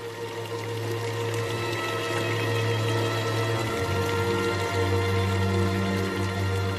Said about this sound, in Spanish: que el agua esté fluyendo por fuentes de distinto tamaño